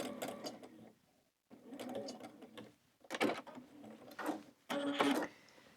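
A sewing machine doing free-motion thread painting on quilted fabric runs in several short, fast stitching bursts separated by brief pauses, close and fairly quiet, with no talk.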